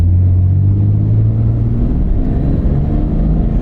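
A 4-liter six-cylinder car engine accelerating hard on an open road, a loud, steady low rumble that keeps winding up throughout, with no voices.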